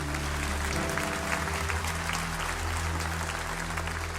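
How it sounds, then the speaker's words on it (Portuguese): Steady applause from a church congregation fills the room, dense clapping holding evenly throughout with a low musical hum beneath it and no break. "Uma salva de palmas para o Laurinho."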